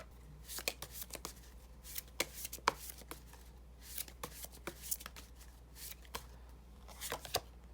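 Tarot cards being shuffled and drawn by hand, a quiet run of soft riffling flicks and taps repeating at an irregular pace over a low steady hum, with no talking.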